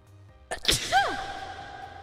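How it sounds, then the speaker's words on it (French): A single short sneeze, close and sharp, followed by a brief whooshing tail. "J'ai envie d'éternuer."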